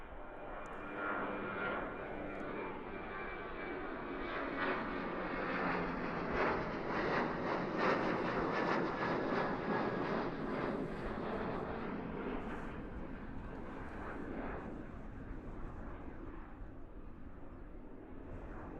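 A Qantas airliner departs Christchurch Airport bound for Brisbane, its engines a broad, sustained roar that builds to a peak and then slowly fades as it climbs away into the distance.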